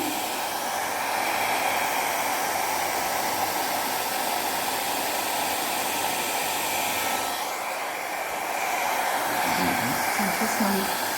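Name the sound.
hair dryer blowing out a paint pour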